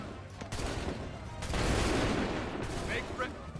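A massed musket volley in the Assassin's Creed 3 game, a dense crackling roar of simultaneous shots that swells and then trails off, with shouted voices around it.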